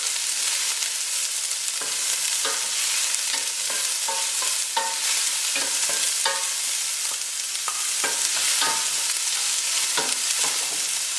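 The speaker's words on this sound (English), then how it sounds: "we're going to saute our onion" Chopped onion sizzles and sautés in a little oil in a pot, with a spoon stirring and scraping in an irregular rhythm, close and fairly loud with no voices.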